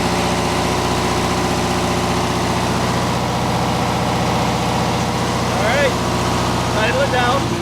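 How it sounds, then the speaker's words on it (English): An Onan MEP 0003A 10KW military diesel generator idles close by, a loud, steady, rumbling engine drone with an even throb, with a few faint squeaky chirps near the end. "Listen to the engine."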